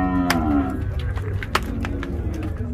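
Cattle moo at a busy livestock market in Ouricuri, Pernambuco, with a long low call up close, more lowing behind it, and background chatter and knocks throughout.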